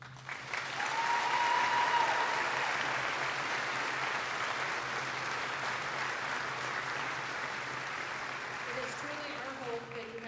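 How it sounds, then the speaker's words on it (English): A commencement ceremony audience gives a sustained round of applause for retiring college employees, a dense steady wash of many hands clapping that swells early and holds for about ten seconds, with a brief voice near the end. "Please make a whole lot of noise and join me in a heartfelt round of applause for Jeff, Leanne, Larry, Vince, Betsy, Scott"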